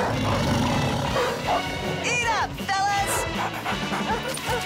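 A cartoon dog barks and yips in a lively burst with crashing effects, short excited barks and whimpering squeals in the middle amid busy background sound.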